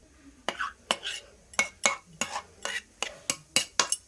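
Rohu fish is stirred in a pan, with about a dozen sharp metallic spatula scrapes and clinks in an uneven rhythm over a faint background, close and fairly loud.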